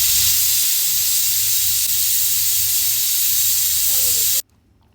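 Pressure cooker hissing steam loudly and steadily while cooking palak sambar, a continuous broadband jet close by that cuts off abruptly near the end, with a faint rising whistle just before it stops.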